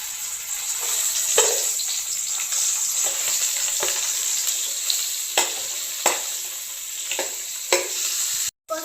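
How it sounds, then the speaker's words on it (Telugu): Salted fish sizzles steadily in hot oil in a pan, a constant frying hiss broken by occasional sharp crackles and pops as the pieces settle; no voices. "ఇప్పుడు మనం ఉప్పు చేపలు వేసుకుందాం"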